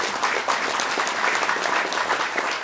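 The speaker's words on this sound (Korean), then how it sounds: "축하의 박수를 한번 보내주시죠." Steady, dense applause from an audience at a scholarship and award ceremony, continuous and fairly loud throughout, with no talk.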